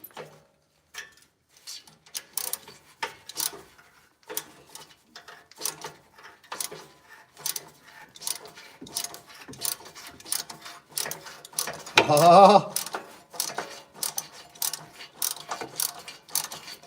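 A wrench ratchets exhaust pipe bolts loose on a 1986 square body truck: a long run of crisp, steady mechanical clicks up close, with a louder grinding burst partway through.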